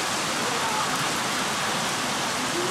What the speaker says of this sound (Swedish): Det kom väldigt mycket regn på väldigt kort tid.